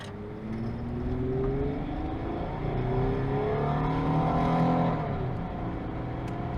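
A 2004 Chevrolet S10 pickup engine revs up and pulls hard in a 0 to 60 run, its rising growl climbing in pitch through the gears, loud and close from inside the cab.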